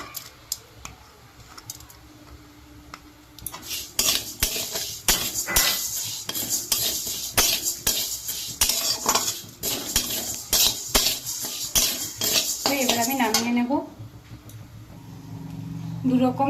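Metal spoon scraping and clanking against a pan while fried moong dal is stirred for a pumpkin-stem dal, busy rapid clatter for most of the stretch, with a voice talking over it.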